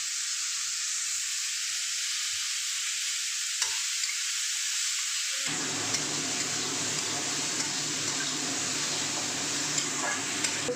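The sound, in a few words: water lily stems frying in a pan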